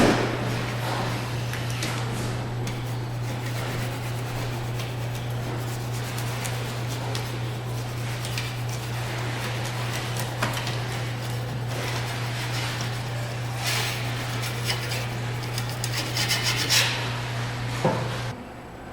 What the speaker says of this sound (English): I went down just the flat seam here a little ways, so I scraped all that out